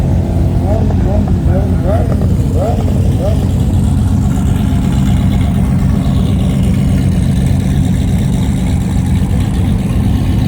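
A turbocharged LS-swapped third-generation car idling in the drag strip staging lanes, a loud, steady low engine rumble with a brief revving whine early on, held close and constant throughout.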